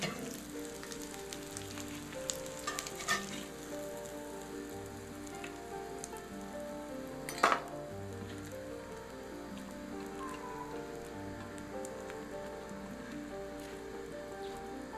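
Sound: sausages and egg frying in a pan

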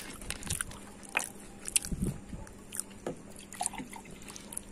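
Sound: drinking water

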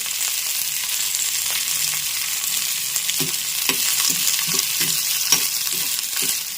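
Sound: garlic and spices frying in oil for tempering

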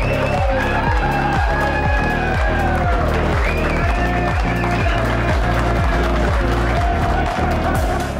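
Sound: stadium crowd cheering after Rory Sloane's goal

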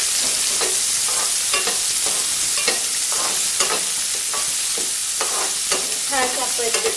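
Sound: two large onions sautéing in a pan

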